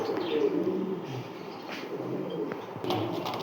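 Low, soft cooing of fancy pigeons, including Jacobins, continuous and murmuring, with a few faint chirps and some background noise.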